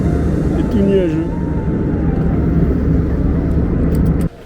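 Steady broadband drone of an airliner cabin in flight over France, loud and continuous with a low rumble throughout, faint voices underneath, cutting off abruptly near the end.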